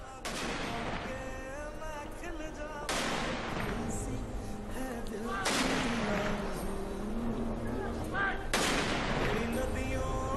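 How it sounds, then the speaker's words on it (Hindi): Ceremonial 17-gun cannon salute before the cremation of General Bipin Rawat: four loud, evenly spaced booms roughly three seconds apart, each trailing into a rumbling echo. "उन्हें 17 तोपों की सलामी दी गई।"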